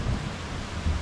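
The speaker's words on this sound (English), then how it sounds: "It's just thunder." Thunder rumbles low and continuous during a hot summer storm, a broad deep roll mixed with steady rain hiss, filling the short stretch without any talk.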